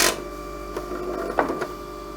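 A rock polishing machine runs at high speed with a steady electric motor hum and whine, and a few faint clicks and ticks sound over it, close and continuous.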